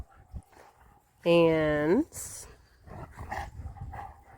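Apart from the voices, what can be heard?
dogs playing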